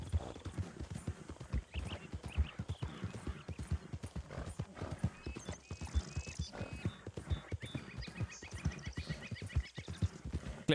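Horse hooves clip-clopping in Red Dead Redemption 2, a steady brisk rhythm of soft close hoofbeats with faint ambient game sounds above.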